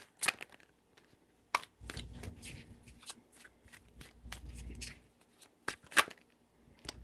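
Tarot cards are shuffled up close, sharp isolated card snaps giving way to a sustained papery riffle lasting a few seconds, then a few more loud flicks and taps.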